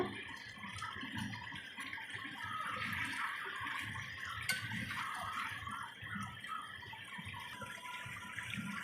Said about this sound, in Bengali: সামান্য জল দিয়ে দেব মাছটাকে সেদ্ধ করার জন্য।